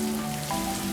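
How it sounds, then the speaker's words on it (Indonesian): Light drizzle falls steadily near a roadside terminal in Bali, a soft continuous patter of rain with a faint low hum underneath and no voices. "Ini cuacanya sedikit rintik-rintik hujan gitu ya."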